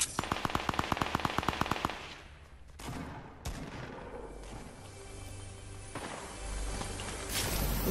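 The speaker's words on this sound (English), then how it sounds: "I've got an enemy shooting rockets at me with RPG." Rapid automatic gunfire bursts out in a fast rhythmic string inside a Fortnite Battle Royale match, followed by louder blasts and explosions like RPG rockets fired by an enemy player, with game ambience continuing between the hits.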